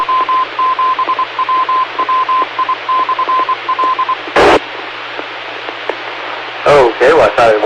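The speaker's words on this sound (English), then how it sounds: "I thought I'd wait for the Morse code session to finish up there." Morse code beeps come through on amateur radio as a steady tone in short and long pulses over a hissing, static-filled band, followed by bursts of noise and a radio voice.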